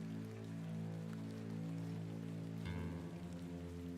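Steady rain falls in a video game: a soft, continuous patter blended with a low sustained musical hum, faint and unbroken, with no voices.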